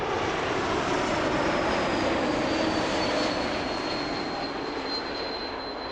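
China Southern airliner passing overhead, a loud continuous engine roar with a high whining tone that slowly falls in pitch as it moves past.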